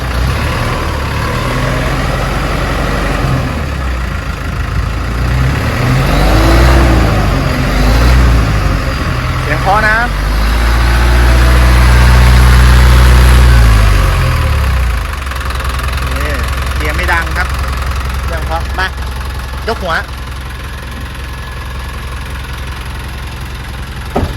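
A Hino FC9J six-wheel water truck with a 175-horsepower engine starts up and settles into a steady diesel idle with a brief rev, heard close while someone talks over it.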